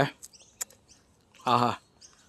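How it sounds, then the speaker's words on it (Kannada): Birds chirp in a park: short scattered tweets and one brief louder trill, close and clear, with quiet gaps between calls. "ಏನು ಚೆನ್ನಾಗಿದೆ ಈ ಆನಂದವಾಗಿರೋ ಹಕ್ಕಿ ಶಬ್ದ"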